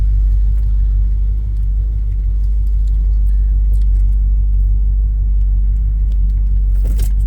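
A 1978 Chevy truck engine idles steadily after a cold start, a loud, continuous low rumble close by with no speech, and a brief clink or rattle near the end.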